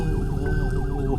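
A siren on a vehicle in São Paulo traffic wails close and loud in quick rising and falling sweeps over a low traffic rumble.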